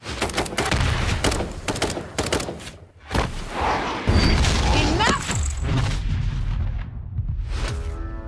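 Deep booms and crackling blasts from a zombie apocalypse board game trailer, layered with dramatic music and a voice talking, loud and dense throughout with heavy low rumble.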